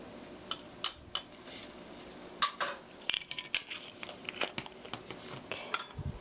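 Sesame oil seasoning being stirred in a bowl, a series of irregular clinks and scrapes of a utensil against the dish, close and fairly crisp, with no talking.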